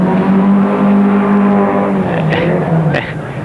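A Datsun 1600 rally car races fast downhill on a dusty stage, its engine roaring loudly and steadily with a harmonic drone, pitch dipping as it passes close, with brief bursts of gravel or skid noise near the end.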